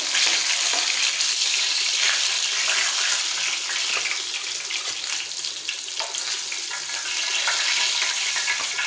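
Fish, prepared Sindhi style, sizzles in a frying pan after being cooked on both sides: a steady, bright, hissing fry that holds at an even level throughout with faint crackles and no voices.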